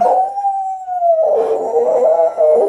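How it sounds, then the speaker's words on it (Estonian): A wolf howls in an audio drama, one long loud sustained tone that slowly sinks in pitch, then breaks into a wavering, rougher continuation, close and alone. "Sa ulud siin niimoodi keset päeva."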